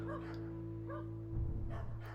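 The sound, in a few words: dogs barking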